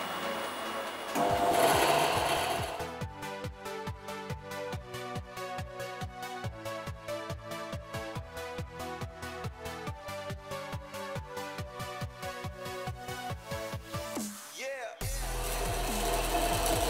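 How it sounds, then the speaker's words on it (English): A bandsaw cuts a wooden trident with a rapid, even mechanical rattle that runs steadily for about twelve seconds and then stops abruptly, with some talk around it. "the thing I love about bandsaw is that you can literally trim like very thin pieces"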